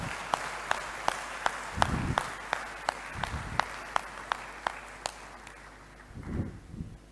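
An audience at a TEDx event at IIT Kanpur applauds steadily, a crowd of hands clapping at moderate volume, with sharp individual claps standing out and a few low thumps underneath.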